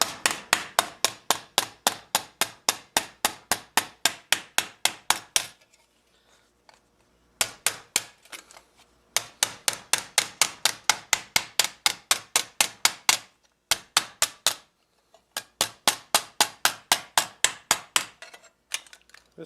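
Steel armour lames of a mitten gauntlet ring under rapid, evenly spaced hammer blows, close and sharp, in three long runs separated by brief pauses.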